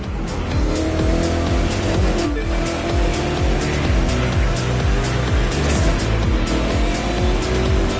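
Hypercar engines race on rough asphalt in the video game The Crew 2. A loud, continuous engine roar rises and falls repeatedly as the cars shift gears, with tire noise and no talking.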